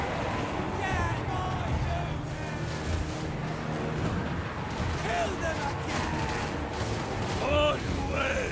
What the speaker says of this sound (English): look at that salvo going off, just draining the health of the enemy